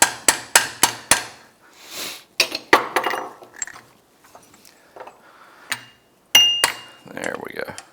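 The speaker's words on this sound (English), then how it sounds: "Let's grab our setter and get it to go a little bit below." Quick metallic taps strike a setter seating a shock retention clip on a Honda CRF450R dirt bike shock, a fast run of sharp clinks followed by scattered lighter knocks, up close, with a voice heard near the end.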